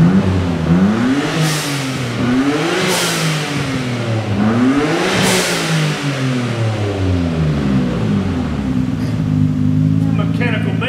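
A 1999 Nissan R34 GT-R with catalytic converters right off the turbos revs repeatedly, its engine note climbing and falling in several sweeping pulls, loud and close, with voices talking over it.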